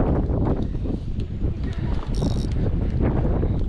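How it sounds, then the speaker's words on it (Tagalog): Strong wind buffeting the microphone during saltwater fishing, a loud continuous rumbling roar with gusty surges and faint mechanical clicks beneath. "Malakas ang hangin."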